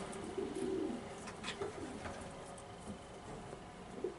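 Young late-season pigeon chicks in a breeding loft give soft, low cooing calls, a few faint murmuring coos and light rustles scattered through a quiet space.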